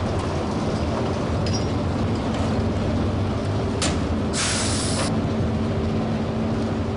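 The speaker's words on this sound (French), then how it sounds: "À la fin du tri, chacune des 4 chambres est vidée par aspiration." A steady industrial suction roar empties the four feather-and-down sorting chambers, a continuous loud machine hiss with a few brief bursts of louder air rushing partway through.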